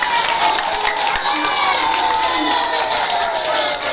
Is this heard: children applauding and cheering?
yes